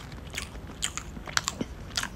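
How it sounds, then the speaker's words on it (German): Someone eats with loud, close smacking and crunchy bites, a string of sharp wet clicks and chews over a quiet background, with no talking. "Schmatz doch bitte noch mehr."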